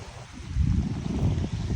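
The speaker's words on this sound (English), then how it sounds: "It is windy, so I hope you can hear me" Steady gusty wind buffets the microphone beside Loch Lomond at Tarbet, Scotland, a low continuous rumble that swells and dips throughout with no voices.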